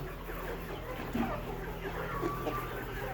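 Sebastar cross layer hens cluck softly in a shed, a few brief calls over a steady low hum and background murmur.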